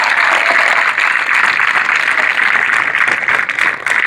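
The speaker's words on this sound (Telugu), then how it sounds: "బాలాజీ భవన్ పిల్లలు ఒకసారి గట్టిగా క్లాప్స్ కొట్టచ్చు" Steady, loud applause from a crowd of children at a sports event, honouring the Balaji Bhavan team, dense clapping sustained throughout without pause.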